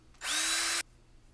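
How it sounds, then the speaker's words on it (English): A power drill fitted with a long drill bit drills a hole in a model rocket bulkhead for an SBR 4-inch Fusion build, giving one loud, close whine of about half a second that starts and stops sharply. "I happen to have a long drill bit"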